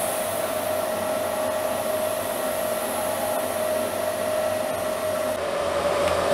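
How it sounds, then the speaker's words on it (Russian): Shielding gas rushes from the purge on an Everlast 210 EXT welder in a steady, close, loud hiss with a faint tonal whine, holding unbroken throughout with no voices. "Включаем и регулируем подачу защитного газа."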